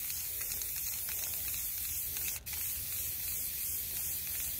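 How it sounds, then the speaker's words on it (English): Black spray paint hissing from an aerosol can onto a tumbler outdoors, a continuous close hiss with a brief pause midway before resuming. "And then I'm going to go in with just my black spray paint."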